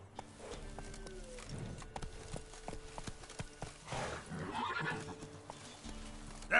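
Roach, a horse in The Witcher 3, galloping with rapid, steady hoofbeats and an occasional whinny, fairly quiet at first and growing louder toward the end, under faint background sound.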